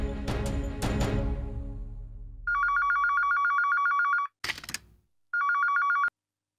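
A telephone bell rings in two bursts, a long repeating trill then a shorter one, clear and close, after a few heavy thuds fade out; no talk.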